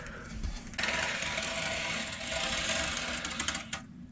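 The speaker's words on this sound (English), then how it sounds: "We're going to go and cut this piece out of insulation" A regular utility knife slices through R3 foam insulation board, a steady dry scraping cut running close and fairly loud for several seconds, ending with a few sharp crackling snaps.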